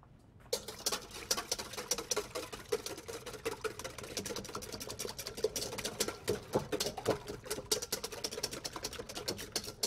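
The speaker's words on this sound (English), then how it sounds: "So just get a whisk and whisk them together." Eggs for a corn pudding are whisked in a bowl, making a fast, continuous patter of light metal taps and clicks close by that starts after a brief moment of quiet and runs steadily to the end.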